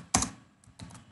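Someone types on a computer keyboard, a short burst of clustered key clicks, a pause, then another burst, close and fairly loud with no talk.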